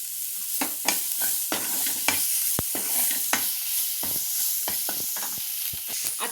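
Tomatoes and coriander sauté in oil for dhaba-style dal tadka, a close sizzle broken by repeated scraping strokes of a spatula stirring the pan.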